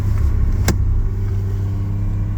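A Vortec 4200-swapped Jeep Comanche driving through deep snow, its engine a steady low rumble close by, with one brief sharp click partway through and no talking.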